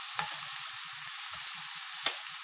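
Peppers and onion frying in a pan with a spoonful of pepper paste, a steady bright sizzle throughout with a couple of faint clicks and one sharp utensil tap.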